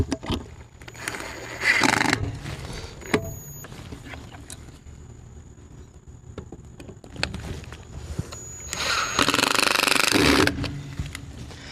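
A power drill whirs in bursts as self-tapping screws are driven in during a router installation, louder near the start and end, separated by quieter handling noises and clicks.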